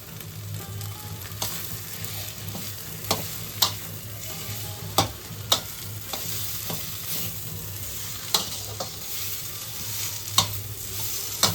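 Spiced potato filling with roasted masala fries in a pan under a steady low sizzle, with sharp spatula scrapes and taps landing every second or so, close by and with no talking.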